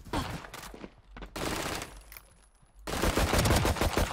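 Rapid automatic gunfire in the video game Valorant comes in dense bursts separated by a quieter gap, loud and close, with no speech.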